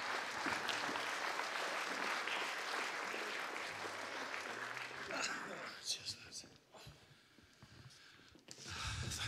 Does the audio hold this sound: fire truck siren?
no